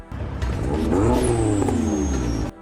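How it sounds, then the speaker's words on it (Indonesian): A car engine revs hard as the car picks up speed, its pitch climbing in a sweeping rise that holds loud and close for a couple of seconds and then cuts off sharply. "seorang pemuda bernama Brian sedang memacu mobilnya"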